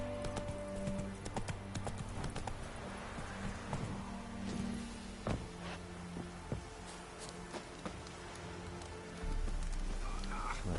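Horse hooves clip-clop steadily in The Witcher 3 on PS5, a rhythmic run of hoofbeats over a busy game soundscape with light rain-like patter, moderately loud throughout.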